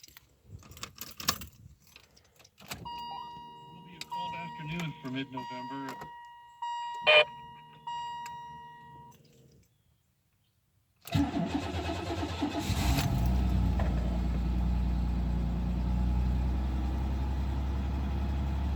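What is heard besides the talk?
1992 Buick Regal Limited engine cold start in snow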